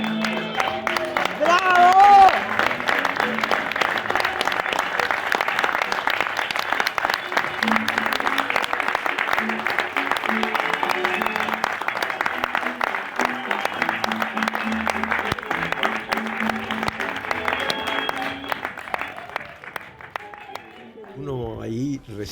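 Theatre audience applause at a tango-themed comic sainete performance fills the space with sustained dense clapping and some cheering for about twenty seconds before fading, with voices heard over it.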